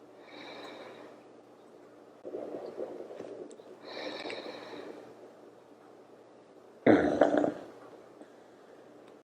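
A resting dog breathes deeply and snores softly nearby in a quiet outdoor setting, a few slow, faint breaths followed by one louder snorting exhale.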